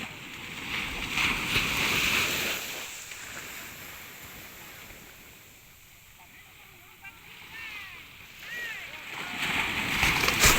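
Broadband rushing water swells and fades as waves splash and surge, with voices talking faintly over the surf.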